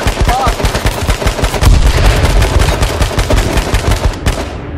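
Dense automatic gunfire in a firefight in the video game H1Z1: loud, rapid bursts of shots, close and continuous, with a voice faintly underneath.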